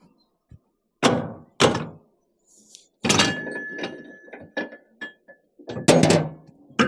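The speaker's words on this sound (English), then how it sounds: "Open our lid so the tank can vent." Heavy thunks and metallic clatter as the lid of a calcium chloride tank is opened, a run of loud, close knocks and scraping bumps with short quiet gaps between them.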